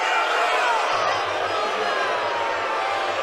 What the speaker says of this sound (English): A chorus of boos echoing out from the hometown crowd